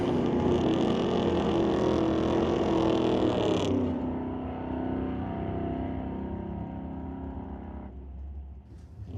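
Drag racing cars, a 1971 Chevelle and a Mustang, roar loudly at full throttle, then the engine note drops abruptly and a lower rumble carries on before fading, with no talk over it.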